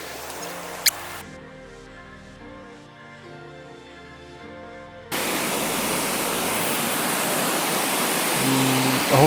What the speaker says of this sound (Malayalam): ഇതാണ് കട്ടിക്കയം വാട്ടർഫോൾസ്.